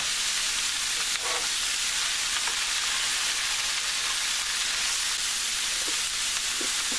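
Bok choy sizzles and fries in a hot pan alongside black bean and turnip tofu, a steady broadband hiss lasting throughout with a few faint clinks of stirring, no voices.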